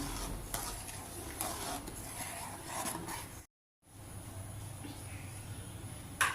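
Milk rice pudding (payas) being stirred in a pot, a soft continuous scraping and swishing that runs steadily, breaks off briefly midway, then resumes at moderate level with no talk.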